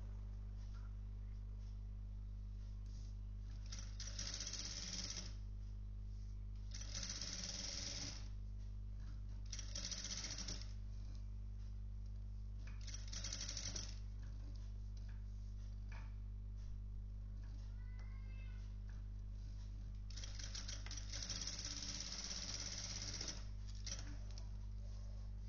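A sewing machine stitches a round neckline on a simple frock in repeated short bursts of fast whirring needle action, separated by quiet pauses while the fabric is turned, alone without talk.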